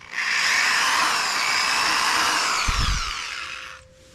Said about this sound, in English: let's just get to drilling, I guess.